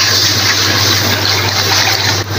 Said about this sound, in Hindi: एक जग, ये मैंने पानी लिया